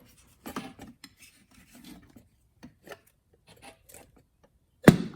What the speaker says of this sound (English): I'm just prying up with the flathead, trying to get around everywhere